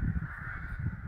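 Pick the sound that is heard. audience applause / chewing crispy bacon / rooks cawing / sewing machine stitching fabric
rooks cawing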